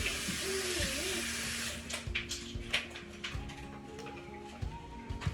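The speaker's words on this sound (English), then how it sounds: "going to rinse these off really quick" Tap water runs into a kitchen sink as potatoes are rinsed under it, a steady broadband wash with occasional knocks and clunks of the potatoes being handled.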